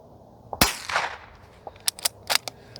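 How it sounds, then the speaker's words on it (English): A suppressed rifle firing CCI standard velocity subsonic ammunition, one sharp muffled report followed by a short echoing tail, then several softer clicks and taps nearby. "My dot's dead, so maybe we'll shoot that rock"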